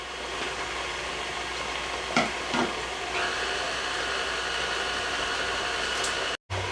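An electric mixer whirs through poundcake batter with a steady, even motor drone and airy hiss, broken by a few brief clunks near the middle and a short dropout near the end.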